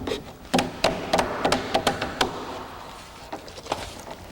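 A hammer drives nails to toenail a wooden joist into a sill plate during house framing: a run of sharp, close wooden knocks in quick irregular bursts, then a pause and a few more blows.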